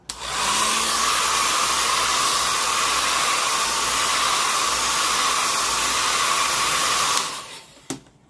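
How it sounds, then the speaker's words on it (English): A hair dryer blows on watercolor paint, a loud steady whooshing hiss that runs for about seven seconds, then cuts off with a brief clunk. "You can use a hairdryer if you want, and I might just do that"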